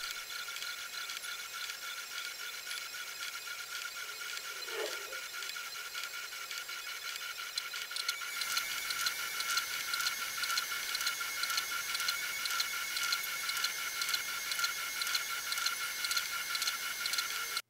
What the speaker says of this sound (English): And then we'll just send that across to the printer and it'll print out.